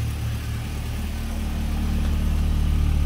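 A Volkswagen Gol's engine idles steadily after an exhaust leak repair, a low, continuous rumble that grows slightly louder toward the end, no voices present.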